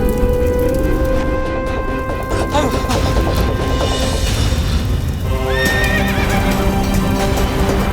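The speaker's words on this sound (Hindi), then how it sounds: "अश्वशाला में तो अग्नि लगा दी इसने। अश्व तो अनियंत्रित हो चुके हैं" Panicked horses neighing and whinnying in a burning stable, with hooves clip-clopping and thuds beneath a dense, loud dramatic score that runs throughout.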